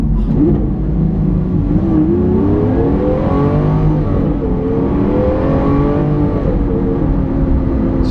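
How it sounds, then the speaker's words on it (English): A Lamborghini Aventador with its rear-mounted V12 accelerates hard, the engine note climbing steadily in pitch as it revs up, loud and close for about eight seconds with no talking. "I know I've got a massive V12 in the back"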